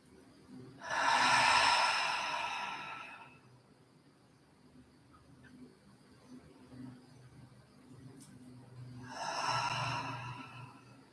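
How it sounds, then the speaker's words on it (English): Slow yoga breathing, drawn in through the nose and let out through the mouth: two long, soft, airy breaths separated by several seconds of quiet. "Begin to slow your breath down, breathing in through the nose and out through the mouth"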